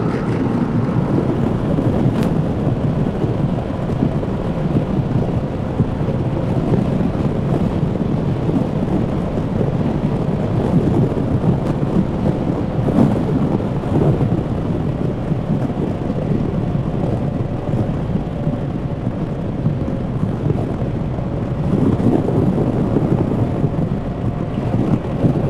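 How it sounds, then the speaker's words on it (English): Gusty wind buffets the microphone during a long-distance scooter ride, a loud steady rumble with surges lasting throughout and no voices. "Windy. I wonder if we have some weather coming in. It's getting gusty out here."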